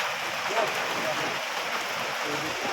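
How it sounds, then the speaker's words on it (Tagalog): Dense, steady hiss of heavy rain pouring down continuously, with a faint voice murmuring underneath. "lakas ng ulan"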